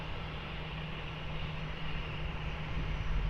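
An airliner rolls out on runway 20 at Lisbon Airport, its engines a steady, broad roar that builds slightly toward the end, heard at a distance with no voices over it.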